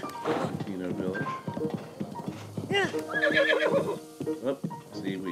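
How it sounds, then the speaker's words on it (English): A horse in the Zelda: Breath of the Wild video game clip-clops along at a gallop and lets out a whinny, hoof beats close and rhythmic with a voice talking over them. "Guiding our unruly horse"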